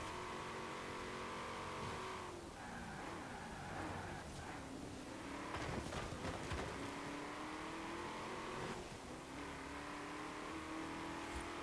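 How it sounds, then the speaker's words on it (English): A Corvette engine revs hard during a street race in Forza Horizon 4, its pitch climbing and dropping through repeated gear shifts, loud and continuous with a brief tire squeal. "Corvette is really shifting."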